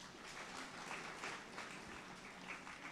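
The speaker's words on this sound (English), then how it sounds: "Able clap for yourselves." An audience at the ESD Awards 2023 ceremony claps in a steady, sustained round of applause that fills the whole stretch at moderate distance, with no talking over it.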